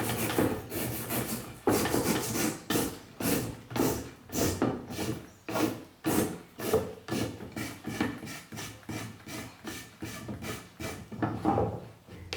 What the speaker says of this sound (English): I use the steel brush again, and as you can see, it clears out the root properly and nicely.